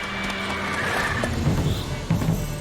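Roach the horse in The Witcher 3 whinnies close up, a short neigh with a few hoof clops underneath against steady game background noise.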